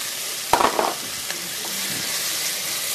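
Onions sautéing in a pan with green chili and ginger-garlic paste for white chana masala, a brief stirring clatter and soft sizzle near the start, then a steady low frying hiss with no talk.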